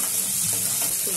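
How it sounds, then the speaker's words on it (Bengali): Pea filling for kochuri being stirred in a hot pan, giving a loud continuous sizzle with a scraping texture throughout a short moment and no talking. "এটাকে ভালো করে মিক্স করে দেব, আর এটা যতক্ষণ না শক্ত হয়ে আসছে ততক্ষণ আমাকে এটা নাড়াতে হবে।"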